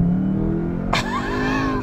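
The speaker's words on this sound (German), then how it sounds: "ich drücke die Bremse, gehe aufs Gas und gehe dann von der Bremse runter" A 2021 Cupra Formentor VZ (310 PS) engine idling with a steady rumble, then abruptly roaring into a hard, rising rev as it launches close by.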